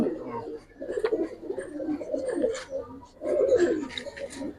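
Colorful Giribaz pigeons cooing close by in low, throaty, continuous murmurs, with a few sharper chirps and handling sounds mixed in.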